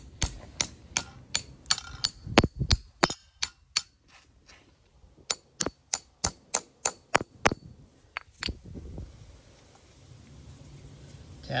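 A hammer taps a metal deck pier plate anchor into concrete, striking sharply many times in a quick, uneven series of loud metallic taps, pausing briefly midway, then a few more hits before fading.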